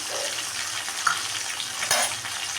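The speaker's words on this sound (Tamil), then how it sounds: "மீடியம் ஃப்ளேமில் வச்சு வதக்கிக்கோங்க" Green chillies, onion and garlic sizzle over a medium flame for a village-style fish curry, a steady close frying crackle broken by a couple of brief spoon scrapes.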